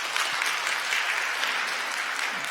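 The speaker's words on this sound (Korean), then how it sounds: "환영의 박수 부탁드립니다." A church congregation at a Sunday worship service breaks into warm applause of welcome, a dense, steady clapping from many hands that fills the room throughout.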